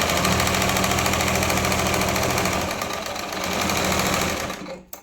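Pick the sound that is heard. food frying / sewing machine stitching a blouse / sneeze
sewing machine stitching a blouse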